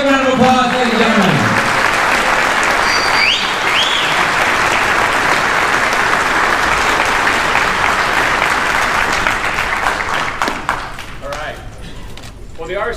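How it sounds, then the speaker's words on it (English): Loud, dense applause from a large audience at a 2017 Yamaha R6 premiere at AIMEXPO, greeting a MotoAmerica Supersport champion, sustained for about ten seconds with cheers and voices mixed in before tapering off. "Give a big round of applause, ladies and gentlemen"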